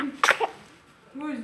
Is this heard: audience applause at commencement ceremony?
no